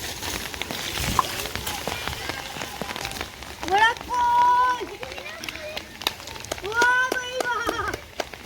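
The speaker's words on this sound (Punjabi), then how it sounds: "ਕਾਫੀ ਗਰਮੀ ਤੋਂ ਬਾਅਦ ਮੀਂਹ ਪਿਆ" Steady rain patters on a surface in a Punjab village, with children's voices and shouts rising over it in several bursts.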